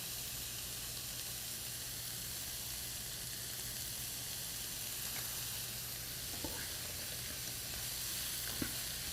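Zucchini pieces sizzle steadily in a hot pan, a continuous even frying hiss with a few faint clicks of a utensil near the end, no voices.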